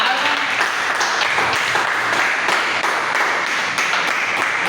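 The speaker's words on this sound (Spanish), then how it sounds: "Vamos a darle un aplauso al Señor antes de comenzar a leer su palabra." A church congregation claps in a steady, rhythmic beat during a prayer service, loud and close, with the claps evenly paced throughout.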